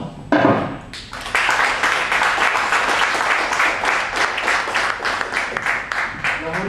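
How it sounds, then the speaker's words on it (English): Audience breaks into a round of applause at a presentation session, many hands clapping in a steady, fairly loud sustained burst after a brief pause. "We need to give him a round of applause."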